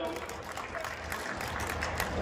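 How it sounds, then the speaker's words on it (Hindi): Steady, dense applause from an audience at a stage program at a livestock fair, loud and continuous throughout with no pauses. "भाई जोरदार ताली बजाओ।"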